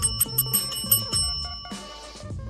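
A bicycle-style bell rings in several quick, sharp strikes with bright ringing tones that sustain and fade, fairly close and clear with no talking over it.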